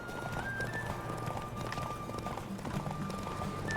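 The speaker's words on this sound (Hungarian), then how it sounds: "Csinos lovakon lovaglunk." Horses gallop with steady rapid hoofbeats in The Witcher 3 horse race, heard over a continuous musical tone and game ambience.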